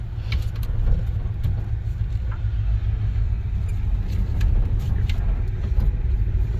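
A 1967 Chevy Bel Air, revived after sitting 16 years and fitted with carburetor upgrades, drives along with a steady low engine rumble and road noise heard from inside the car.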